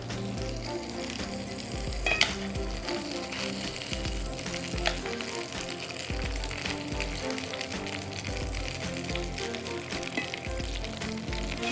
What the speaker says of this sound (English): Okay, so we have our tomatillos and our peppers in our pan. You're going to go ahead and add a little bit of oil to them.